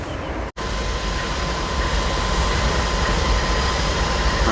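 A southbound passenger train to Oceanside rolls past close by, a continuous loud rumble and rush of wheels on rail that fills the clip after a brief dropout near the start.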